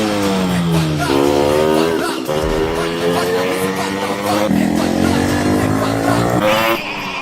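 Yamaha RX-100 motorcycle running with a loud, steady engine drone whose pitch climbs and drops as it revs through gears, close by and continuous throughout, with no talk over it.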